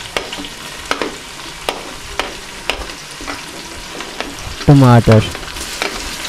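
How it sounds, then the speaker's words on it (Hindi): Onion, ginger, garlic, green chillies and tomato frying in hot ghee for dhaba-style whole masoor dal, with sharp clacks of a spoon stirring the pan and a brief loud sizzle burst as more goes in; one short spoken word. "अच्छे तरीके से भूनेंगे।"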